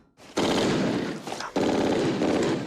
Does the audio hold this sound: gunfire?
yes